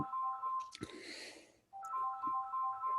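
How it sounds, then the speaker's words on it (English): A mobile phone rings with a repeating electronic melody of short tones, interrupted by a brief muffled rustle, then the ringing resumes steadily. "oh, my phone's ringing"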